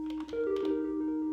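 Sustained low bass tone from an Elektron Analog 4 analog synthesizer with effects switched off, a steady droning note with bright overtones entering after a brief opening, played alone and fairly loud.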